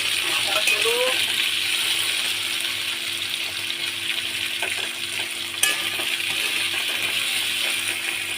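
Potatoes frying in a pan for a Bengali fig (dumur) dish give a steady, dense sizzle throughout, with a few brief metallic clinks from a utensil stirring them near the start and middle.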